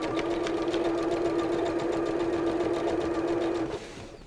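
A sewing machine stitches a quarter-inch seam along quilt binding in a steady, fast, even run of needle strokes, close and moderately quiet, then stops near the end.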